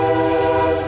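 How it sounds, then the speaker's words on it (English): A passing train sounds its horn near a car show rod run in Cynthiana, a loud sustained chord-like blast filling the whole moment without any talking. "choo-choo train in the back."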